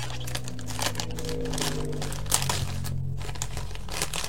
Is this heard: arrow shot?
no